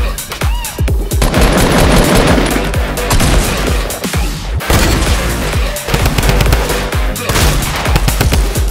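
Gunfire in Fortnite Battle Royale, including a legendary double-barrel shotgun, loud and close, with repeated sharp blasts and rapid bursts in a dense, chaotic firefight.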